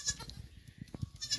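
British Alpine dairy goats bleat several times on a farm, their calls close and moderately loud, with soft scattered rustling and low background noise between cries.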